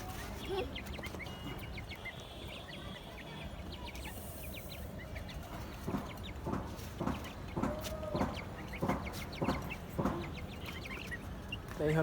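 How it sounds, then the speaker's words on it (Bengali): Free-ranging domestic hens cluck and cackle near the camera, with short repeated calls becoming busier in the second half over a soft outdoor background and faint voices. "এই হলো আমাদের মুরগি।"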